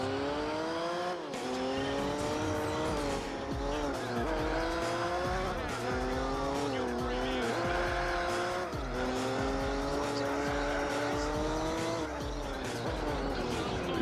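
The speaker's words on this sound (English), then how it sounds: "You really have to brake an insane amount in every corner, since obviously they weren't meant for these beasts." A race car in Gran Turismo 4 holds a loud, steady engine note that rises and falls through gear changes, with tires squealing through braking into corners, continuous and close.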